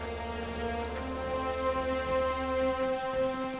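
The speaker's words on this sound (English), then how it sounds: "Light rain began to fall" Light rain falls steadily as a soft, even patter, with sustained tonal music running underneath and no voices.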